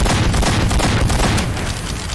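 Team Fortress 2 Mann vs. Machine battle with dense, continuous gunfire and booming explosions, loud and sustained throughout the brief burst.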